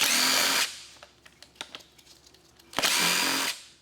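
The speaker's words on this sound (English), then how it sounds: "And then we can remove all the 8mm bolts that hold our valve cover on." A power tool removes 8mm valve cover bolts on a Ford 5.4L 3V engine, giving two loud close bursts of whirring with clinks and small metallic taps between them.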